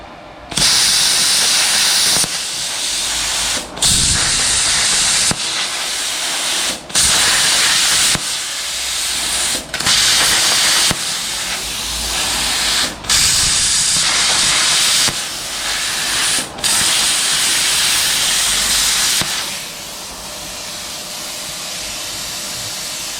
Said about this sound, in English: I'm just going through and blowing the tacks off there, the spot welds, getting that out of the way